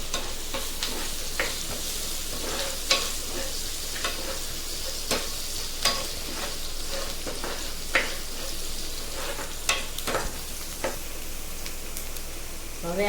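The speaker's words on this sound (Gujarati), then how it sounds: "હવે આપણે તેમાં ઝીણું સમારેલું લસણના કટકા નાખીશું." Finely chopped garlic fries in hot oil with a loud, steady crackling sizzle, broken by periodic stirring strokes and scrapes in the pan; a faint voice occasionally sits under the frying.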